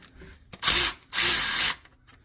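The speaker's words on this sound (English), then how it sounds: "Alright, we're going to start taking these bolts out." Power tool loosening transmission pan bolts on a 2015 Honda CR-V with AWD and CVT, two loud close whirring bursts of about a third and two-thirds of a second separated by a short pause.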